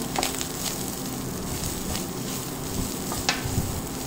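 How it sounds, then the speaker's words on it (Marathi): Garam masala spices and poppy seeds dry roasting in a pan for a Malvani stuffed crab paste, giving a steady soft crackling sizzle with a few sharp scraping stirs, close and alone without talk. "गरम मसाले सगळे टाकून मस्त भाजून घ्यायचे"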